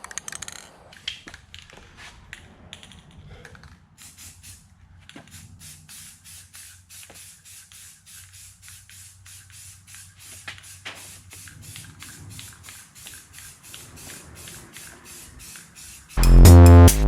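Aerosol spray paint hisses in repeated short bursts onto a taped-off, curb-rashed car wheel, close and steady, with a sudden loud rush of noise at the very end.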